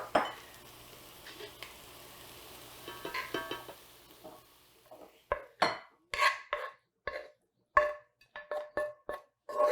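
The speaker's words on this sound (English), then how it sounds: "we can go ahead and transfer it to a bowl" Warm Three Sisters salad being scraped from a pan into a bowl, with a spoon clinking and scraping against metal and ceramic in a run of sharp, close knocks, after softer rustling and sizzle-like scraping at first.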